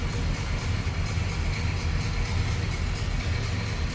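A 1936 Ford Tudor sedan's Flathead V8 with a single carburetor and 6-volt system idles smoothly, a close, steady low rumble without pause.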